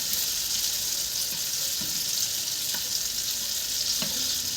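Tortang talong, a Filipino omelette of whole eggplant dipped in egg, frying in a pan with a steady broadband sizzle of hot oil and a few faint scraping ticks, no voices.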